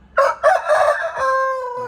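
A single loud, close rooster crow from a fighting cock, rising and then drawing out into a long tail.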